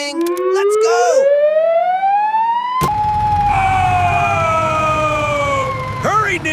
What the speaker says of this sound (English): Siren wailing!